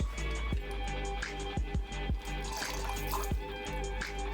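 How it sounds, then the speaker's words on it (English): Bourbon and lemon juice for a cocktail are poured into a jigger and glass, producing soft liquid trickles and small clinks in repeated short bursts, close and quiet. "So we'll put 2 ounces of bourbon, 2 ounces of lemon juice."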